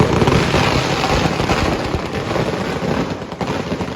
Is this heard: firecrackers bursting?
yes